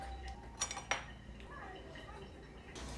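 Crushed Tim Tams stirred with condensed milk in a bowl: a couple of light clinks of utensil on the dish, then quiet scraping under a low background hum.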